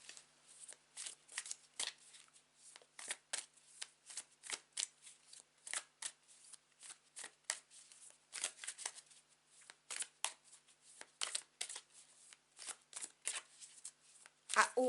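Tarot cards are shuffled by hand in quick, crisp riffling bursts, repeated steadily for about fifteen seconds, close and clear in a quiet room.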